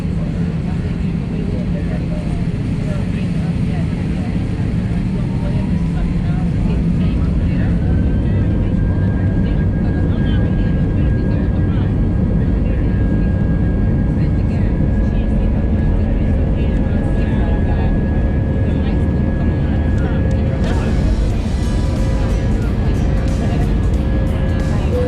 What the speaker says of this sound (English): We started our taxi and took off in a beautiful sunset to commence our flight east.